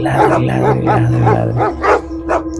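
Dogs bark and yip loudly in a rapid run of sharp, close barks, with a whiny, howling edge and a low hum underneath.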